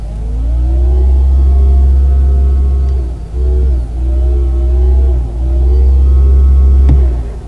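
Synthetic futuristic driving sound from a Mercedes electric car, a loud sustained tone that rises in pitch with acceleration, dips briefly several times, and swells again, with no engine noise.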